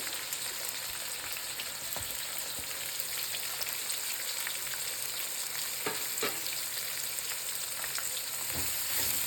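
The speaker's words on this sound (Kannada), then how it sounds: "ಈರುಳ್ಳಿ ಕಲರ್ ಚೇಂಜ್ ಆಗುತ್ತೆ ಅಂತ ಫ್ರೈ ಮಾಡ್ಕೋಬೇಕು." Three onions frying in a generous amount of oil for rice rava upma, a steady dense sizzle with faint stirring scrapes now and then, no talking.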